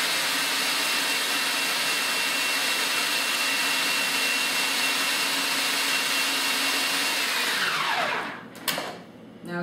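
Food processor grinding raw nuts for chocolate truffles, a loud, steady high whine that runs continuously and then winds down near the end, with no talk.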